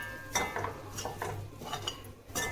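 A metal spoon scrapes and clinks in a pan while stirring egg kothu chapati with masala, irregular close taps and scrapes of moderate loudness, no talking.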